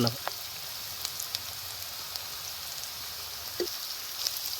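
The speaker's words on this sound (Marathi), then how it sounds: "आता आपला कांदा लालसर भाजलाय" Onion frying in a pan until reddish brown makes a steady, fairly quiet sizzle with occasional faint stirring taps.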